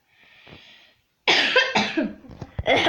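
A soft breathy cough, then a louder, harsher burst of close coughing and throat clearing that trails off in a few sputters.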